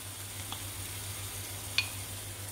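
Half a red and half a green bell pepper with four garlic cloves, all finely diced, sauté gently in oil for a goat meat stew, giving a faint, steady hiss with a couple of soft clicks.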